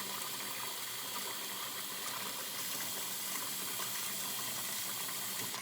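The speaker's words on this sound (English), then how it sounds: "Taking the hose here, making sure they get rinsed off, making sure all that enzymatic cleaner gets rinsed off" A hose sprays water to rinse enzymatic cleaner off dental instruments, making a loud, even hiss of running water that continues without a break.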